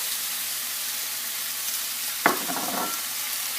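Peppers and onion sizzle on a hot grill with a steady, close hiss, broken by a short sharp clatter partway through before the frying noise settles again.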